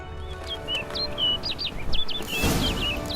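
Several short chirping bird calls from Witcher 3: Blood and Wine ring out in quick succession over a steady ambient background, fairly close and clear, with a brief rustling burst partway through.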